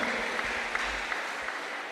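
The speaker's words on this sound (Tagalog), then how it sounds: "Isang malakas na palakpak para sa mahal na Panginoon." Applause from a church congregation during a preaching service, a steady wash of clapping from a crowd that holds evenly for two seconds.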